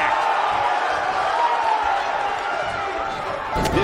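A wrestling slam lands in WWE 2K19's ROH Universe Mode, a single sharp impact near the end, cutting through a steady roar of arena crowd noise that fills the whole stretch.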